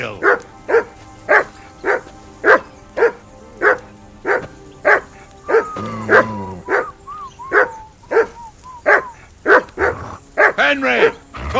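Dog in the medieval video game Kingdom Come Deliverance 2 barks steadily and loudly about once a second, close by, with a short whine partway through and character voices talking over the barking.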